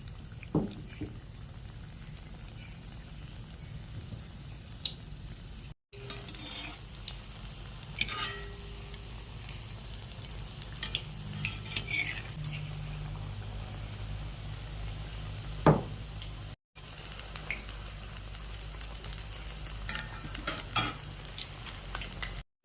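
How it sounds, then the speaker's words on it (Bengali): Kata kulpi (kulekhara leaf) chops coated in batter frying in a pan over medium heat, a low steady sizzle with occasional stirring clicks and soft pours, no voices. "মাঝারি আঁচে কাঁটা কুলপির চপগুলো ভেজে নেব।"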